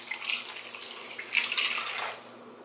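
Freshly hand-squeezed lime juice pours into a container during home meal prep, a soft, steady trickling splash lasting a couple of seconds, close by and fairly quiet, with no voices.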